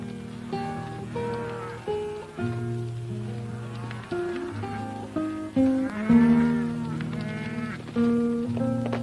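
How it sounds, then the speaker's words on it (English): A herd of once-wild steers lows and moos repeatedly in a 1953 Western, long drawn-out calls overlapping one another at close to moderate distance, with no talking. "What ranch these cattle come from, Carl?"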